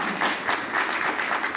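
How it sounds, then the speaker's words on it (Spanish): An audience at a tribute concert applauds, producing a dense, even wash of many hands clapping that holds steady throughout. "Un aplauso para ellos."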